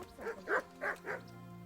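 A dog in the medieval video game Kingdom Come Deliverance barks four times in a quick, even series, fairly close and clear, over a quiet low background hum with no talking.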